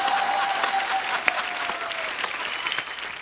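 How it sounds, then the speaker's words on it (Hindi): Studio audience at a comedy talk show bursts into brisk, dense applause, close and lively, with a few sharper claps and a faint whistle-like tone riding over the clapping. "तालियां जोरदार होनी चाहिए"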